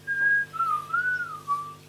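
Someone whistles a clear, wavering melody at the end of a song, several sustained notes gliding up and down over a faint low instrumental drone.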